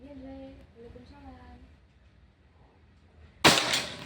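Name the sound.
air rifle shot, Bocap Pajero Gun Gen 6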